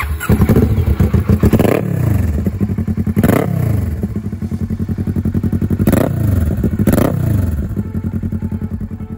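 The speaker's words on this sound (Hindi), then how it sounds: "ये ST Projekt first copy dual cylinder engine, आवाज़ एकदम फाड़ फुल पटाखे छोड़ रही गाड़ी" A Kawasaki ER-6N 649cc parallel-twin motorcycle fitted with a copy SC Project exhaust revs hard in a series of sharp throttle blips, each rising and falling, with popping and crackle between, loud and close.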